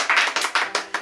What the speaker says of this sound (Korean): 박수 한번 칠게요.